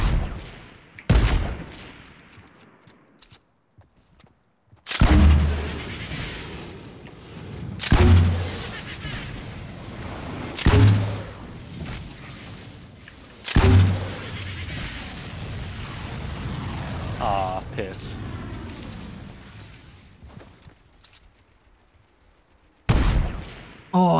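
Gunfire in the Fortnite Battle Royale video game, with several loud, sharp sniper-style shots spaced a few seconds apart, each followed by a decaying boom, and quiet stretches in between.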